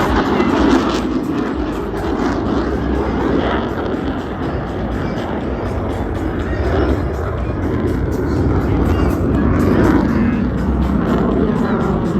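US Navy Blue Angels jets fly opposing horizontal rolls at the Jones Beach airshow, a loud, sustained roar of jet engines filling the air, with a public-address announcer talking faintly underneath.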